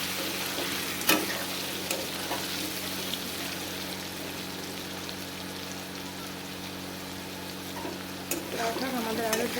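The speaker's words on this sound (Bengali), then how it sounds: "এখন আমরা ঢাকুন এখন শুধু ভাজি, সুন্দর করে ভাজা হোক।" Boiled potatoes frying in a covered pan, a steady soft sizzle and crackle running throughout at low level, with a few sharper pops and a clink of utensil near the end.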